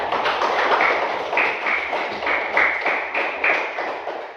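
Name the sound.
applause for group 3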